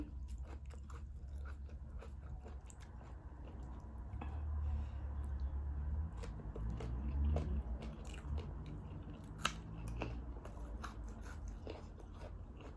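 Someone bites and chews papaya salad with rice at a midday meal, with close, soft crunching and wet mastication going on continuously, and a brief louder crunch near the end.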